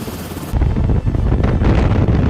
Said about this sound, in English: it's like the helicopter just glided in